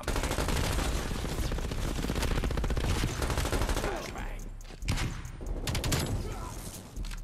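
LC10 submachine gun firing in Call of Duty: Black Ops Cold War, a dense, continuous automatic stream of close, loud shots lasting several seconds, then broken into shorter bursts and single reports amid game effects.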